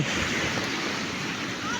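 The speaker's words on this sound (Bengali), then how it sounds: "অনেকে এসে শুয়ে শুয়ে সমুদ্রের কিচিমিচি ডাক, ঢেউ উপভোগ করছে" Sea surf rolls onto a beach at Saint Martin's Island, a steady broadband wash with wind noise, loud and continuous for the whole moment with no distinct breaks between waves.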